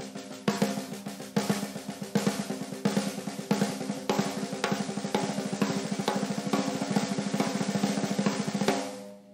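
Drum strokes played in a repeating accented down-down, up-up pattern, with the first two notes stressed, form a steady stream of close, loud hits with ringing overtones that fades out at the end.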